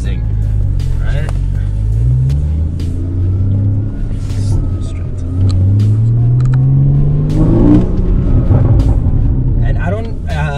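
A 2015 Porsche Boxster GTS engine rumbles deep and throaty, burbling as it revs up and down. Crackles from downshifts punctuate it, with people talking over the engine.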